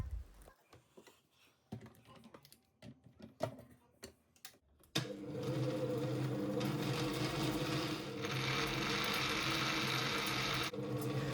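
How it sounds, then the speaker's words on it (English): A Kenwood mixer's grinder attachment coarsely chops basil. After a few seconds of quiet handling clicks and knocks, the motor starts abruptly into a loud, steady whirring grind that holds to the end. "I'm just going to be putting it in my little grinder attachment here for my Kenwood mixer"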